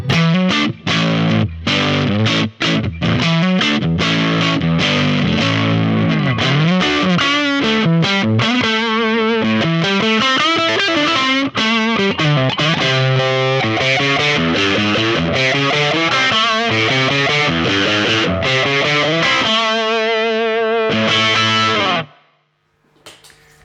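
A distorted electric guitar plays chords and riffs continuously through a Tone King Gremlin combo amp with a boost pedal, loud and close, before ringing out and cutting off at the end.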